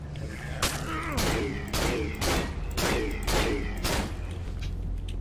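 Glock pistol shots in the horror video game Cry of Fear ring out as about seven loud, sharp reports at a steady, even pace, each trailing a brief echoing decay.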